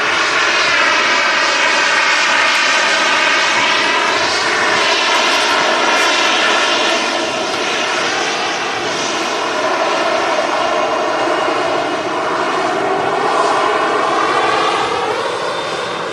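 A fixed-wing airliner at Manchester Airport roars steadily and loudly, a sustained engine drone with shifting tonal whine lasting throughout, no voices.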